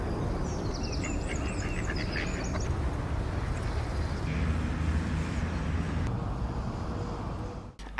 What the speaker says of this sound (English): I saw and heard a lot of birds.